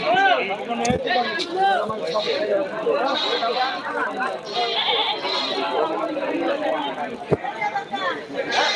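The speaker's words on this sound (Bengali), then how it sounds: "মা ছাগল" Goats bleating at the Kaitla livestock market, several calls rising over a busy crowd of overlapping voices and chatter, close and continuous.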